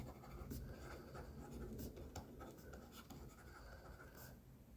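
Handwriting with a pen on paper, a faint continuous scratching with short strokes that runs throughout, very quiet, with no talk over it.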